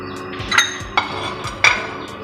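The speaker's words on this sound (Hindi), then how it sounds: "इसमें हम अपना गोश्त डाल देते हैं। जो बीफ हमने जिसकी यखनी बनानी है वो डाल देंगे।" Beef pieces drop into a pot of water for yakhni, making a few sharp clinks and knocks against the metal pot, spaced irregularly and close by.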